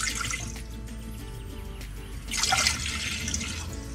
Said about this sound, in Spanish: Ponemos en un cazo a fuego alto a hervir los 2 vasos de agua.